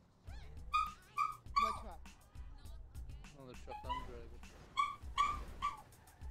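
A dog gives repeated high yips and whimpering cries, close and fairly loud, in short bursts spread through the clip, while someone talks during a live online gaming stream.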